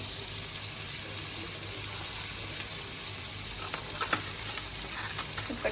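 A pan of vegetables fries for a fasting-style vegetable pasta, with a loud, steady sizzle throughout and sharper crackles and pops scattered near the end.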